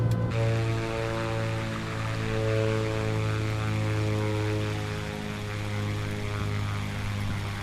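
A propeller airplane engine drones steadily on approach in Microsoft Flight Simulator, a loud even hum with strong tonal harmonics and slight swells in level, alone without talk.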